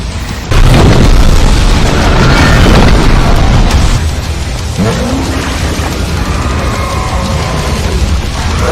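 A heavy boom bursts out and a loud, rumbling blast sustains for several seconds, then settles into a dense roar, as a Ukrainian territorial defense unit fires a lend-lease weapon nearby.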